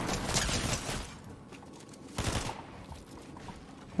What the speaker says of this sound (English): Bro, this kid just freaking shot at me.